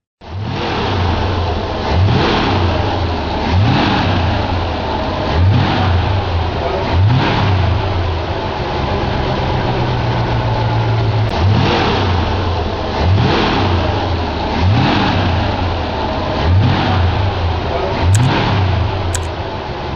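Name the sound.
1956 Lincoln Premier engine revving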